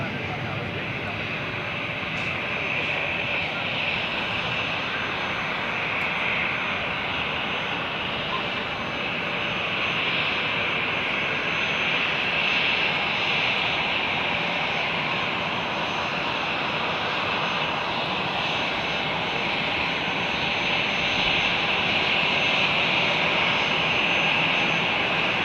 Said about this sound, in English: a Condor A320 in retro livery